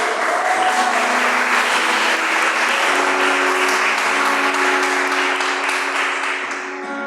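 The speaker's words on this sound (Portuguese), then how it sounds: "E pode aplaudir isso, meu amor." Church congregation applauds loudly during a Mass: thick, continuous clapping fills the space, with a low steady tone beneath it that fades slightly near the end.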